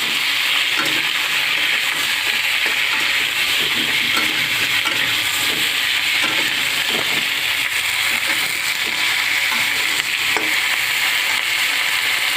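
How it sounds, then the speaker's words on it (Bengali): Fish pieces fry lightly in a wok for a fish-and-cauliflower dish, giving a continuous loud sizzle with occasional stirring and utensil scrapes running throughout. "সেইটা আমি কড়াইয়ের মধ্যে ছেড়ে দিলাম, দিয়ে একটু ভেজে নিই, হালকা করে একটু ভেজে নিলাম।"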